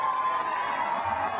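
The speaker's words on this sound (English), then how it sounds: "this is just an enormous and unbelievable crowd" A large crowd at a Barack Obama rally in Oshkosh cheers and roars steadily, a dense, continuous wash of voices.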